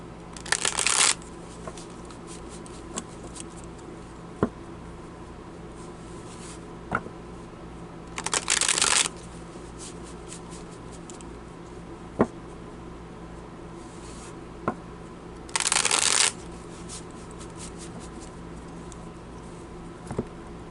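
Tarot cards shuffled in three brief bursts, each about a second long, with long quiet gaps between them. A few faint isolated taps sound in the gaps.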